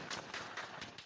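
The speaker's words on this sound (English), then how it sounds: "Demonstrators run for cover as gunfire is heard in Malek Shahi" Gunfire during street protests in Malek Shahi, a city in Iran's western Ilam province: five sharp cracking bursts at fairly even intervals over about a second, harsh and mid-distance.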